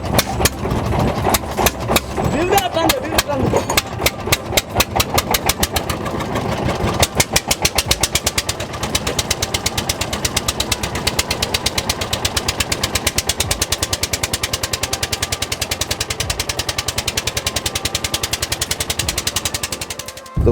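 A fishing boat's engine chugs on the Payra river during hilsa fishing, a loud, fast, steady run of mechanical pulses that continues for the whole stretch without talk.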